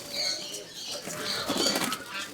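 Young pigeons kept in an enclosure flutter and flap their wings in short bursts, with faint soft cooing mixed in, close by.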